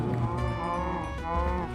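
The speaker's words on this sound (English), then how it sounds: "All I see is cows instead of fence gate." Cows in a video game give a long, loud, sustained moo, with one or two overlapping bovine calls continuing across the whole stretch and no talk over them.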